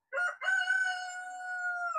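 A backyard chicken crows, close and clear: a short opening note followed by one long, drawn-out call that tails off at the end, alone with no voices.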